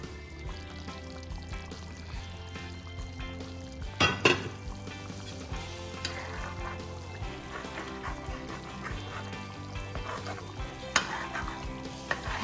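Barbecue salmon cooking in a pan on a stove top, a steady sizzle throughout with occasional stirring, scraping and light clinks of the pan, close and fairly loud.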